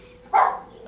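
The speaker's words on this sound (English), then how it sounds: "Oh, there goes my dog." A single short dog bark, heard from a distance indoors, stands out once against a quiet background.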